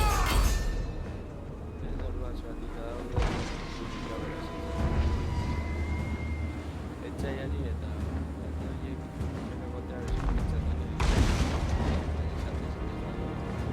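Mortar artillery fire in the Warhammer Total War video game, with deep booming blasts under a rumbling battlefield din while game voices shout over it.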